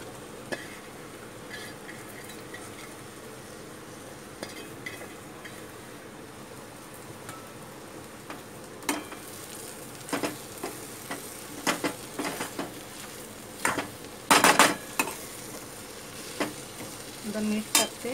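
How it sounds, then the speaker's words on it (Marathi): Okra dropped into a chutney-style gravy in a pan for Maharashtrian bhendi bhaji, frying with a steady low sizzle while a spoon stirs and scrapes in irregular bursts, louder clatter near the end, no talking. "आता मी भेंडी टाकते।"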